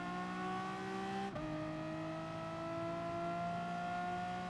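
A race car engine in the video game Gran Turismo Sport drones at a steady pitch, then drops sharply with a gear change and holds a lower, even tone, with no talk.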